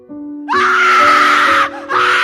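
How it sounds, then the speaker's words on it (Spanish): A loud, sustained high scream sounds close, breaks off briefly, then starts again. "pero escuchamos un grito."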